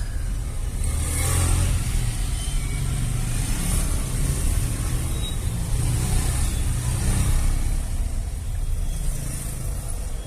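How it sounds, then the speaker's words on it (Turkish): Dense car traffic in Uganda fills the scene with a steady low engine rumble and passing vehicles, with occasional brighter whooshes of cars going by nearby. "Burası Uganda'da olsa trafik her yerde trafik arkadaşlar"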